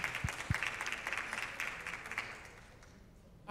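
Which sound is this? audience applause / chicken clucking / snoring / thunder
audience applause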